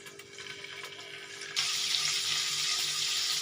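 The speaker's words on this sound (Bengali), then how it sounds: "এবার আমি ফ্রাইং প্যানে রিফাইন্ড অয়েল দিয়েছি, দিয়ে এবার পনিরগুলো এর মধ্যে আস্তে আস্তে দিয়ে একটু ভাজবো।" Paneer cubes dropped into refined oil in a frying pan for palak paneer, a quiet hiss that jumps to a loud, steady bright sizzle partway through, close and continuous, no talk.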